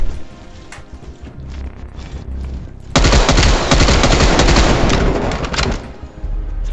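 Rapid automatic gunfire in the video game Call of Duty Black Ops Cold War erupts after quieter game sounds, a loud, close, sustained burst of shots lasting several seconds before tapering off.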